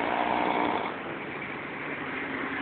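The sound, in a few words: person snoring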